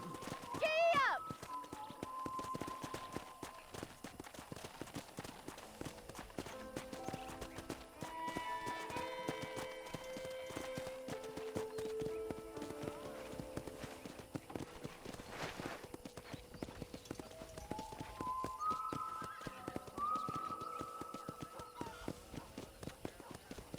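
Hooves of a horse ridden across a ranch in the video game Red Dead Redemption clip-clop in a steady rhythm beneath tonal game music and other in-game sounds, moderately quiet in the mix.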